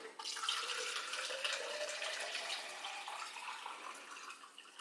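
Filtered water runs from a tap into a shaker bottle, a steady hissing stream of flowing water lasting the whole clip, quiet and close with no talk.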